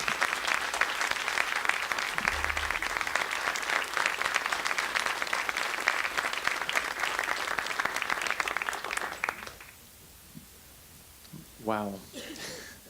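Audience applause at a live stage show, dense sustained clapping for about nine seconds that then cuts off, followed by a brief spoken voice.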